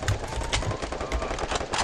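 Rapid gunfire in a competitive online shooter match, a dense burst of close, loud shots cracking in quick succession without pause for the whole moment.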